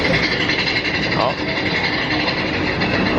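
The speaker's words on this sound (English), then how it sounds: "we gotta wait for the train to come down" Disneyland Railroad train rolling past at night, a steady broadband rumble and rail noise filling the scene continuously, with voices talking over it.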